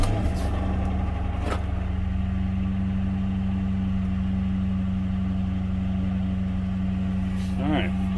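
A car engine with a weak, recently replaced alternator turns over and settles into a steady idle, a constant low hum that stays loud throughout, with a brief higher whine near the end.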